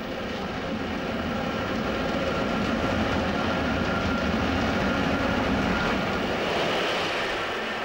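A Class 306 Shenfield electric multiple unit rolls past Ilford Depot on the Anglian electrified line, giving a steady, loud rumble of wheels and traction noise that holds evenly throughout, with no talking.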